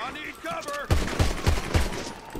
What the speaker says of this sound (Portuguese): Ele tá atirando em todo mundo, cara.